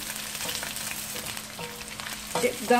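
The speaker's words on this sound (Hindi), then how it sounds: "चिकन बहुत अच्छे से फ्राई हो चुकी है।" Chicken fries in a pan over high heat for dragon chicken, a steady close sizzle with occasional clinks and stirring scrapes, louder near the end.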